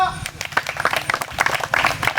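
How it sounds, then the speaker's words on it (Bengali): A group bursts into brisk clapping during an Indian Army Agniveer rally test session in Tripura, uneven bursts of claps mixed with voices. "জোরদার তালিয়া"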